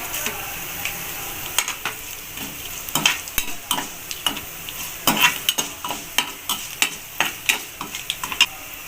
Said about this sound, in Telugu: మనం ఎండుమిరపకాయలు కూడా యాడ్ చేస్తున్నారండి కొంచెం జీలకర్ర యాడ్ చేసుకుందామండి